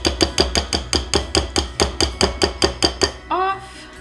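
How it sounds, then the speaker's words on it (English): A fork tapping a chocolate-coated peanut butter ball against the side of a bowl, about fourteen quick, evenly spaced metallic clinks, ending with a brief ringing scrape. "you'll just tap it on the side of the bowl and get any of that excess chocolate"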